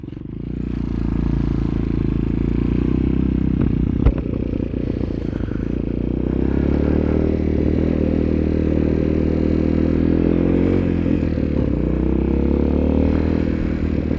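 A motorcycle on the first ride of the year drones steadily from the rider's position, a constant low engine hum with wind rumble and a brief clatter partway through, no talk.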